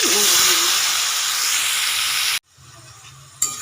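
Marinated mushrooms hit a hot pan with whole cumin and cinnamon, giving a loud, dense sizzling hiss that runs steadily, then cuts off abruptly to quieter crackling before a brief burst returns.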